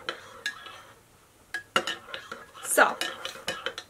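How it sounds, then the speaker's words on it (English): A metal spoon stirs tea in a cup, clinking and scraping against the sides in quick irregular taps, close and fairly soft, with a brief spoken word at the start. "And stir that up."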